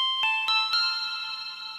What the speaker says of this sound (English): Now it's much smoother kind of reverb.